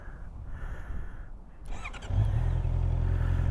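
A 2019 Honda CB650R motorcycle engine cranks and catches, then settles into a steady, deep idling rumble close by, starting after a quiet stretch of background noise.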